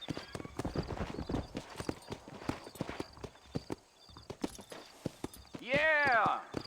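Horse hooves clip-clop in a steady trotting rhythm in a western video game, mixed under a man's spoken dialogue, with a short whinny near the end.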